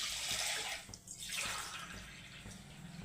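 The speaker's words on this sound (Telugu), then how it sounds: "ఇప్పుడు దీనికైతే నేను 3 గ్లాసులు వాటర్ వేసుకుంటున్నానండి" Three glasses of water pour steadily into a pot of lentils with a splashing rush, dipping briefly about a third of the way through before flowing on.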